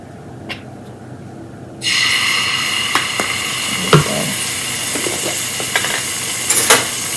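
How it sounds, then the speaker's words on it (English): Ginger and garlic paste, destined for butter chicken, begins sizzling in a pan on low heat, a steady crackling fry with a few scraping stirs and clinks. "So you want to let this fry on low heat for 1 to 2 minutes until it kind of simmers."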